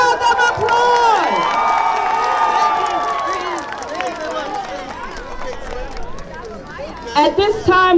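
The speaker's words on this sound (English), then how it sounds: "Let's give them a big round of applause." A crowd at a school flag-raising ceremony for autism awareness in Paterson cheers and shouts, with children's voices in the mix, for about eight seconds and at steady loudness; a voice rises over the noise near the end.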